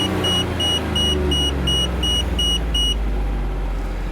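A car engine revs up toward 3500 RPM and holds a steady low rumble, while an in-cabin electronic beep chimes in an even rhythm over it several times and then stops, leaving the engine droning alone.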